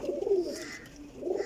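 Pigeons, a mixed flock of flying birds including clipped-wing ones and birds in new feathers, give soft low cooing calls in two swelling bursts, near and moderately loud, with no talking.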